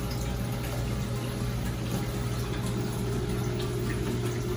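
Water flowing from a Pax Bellum reactor into the mud refugium of a 600 gallon reef aquarium, a steady, loud, continuous rushing and splashing with no pause.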